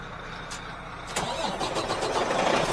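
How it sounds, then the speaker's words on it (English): A Freightliner truck engine cranks over and catches partway through, settling into a steady, loud diesel idle close by with no talk. "It's my wife in the truck about to start it up."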